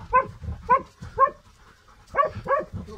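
Dog barking repeatedly in short sharp bursts during a porcupine hunt, five close, loud barks at an uneven rhythm.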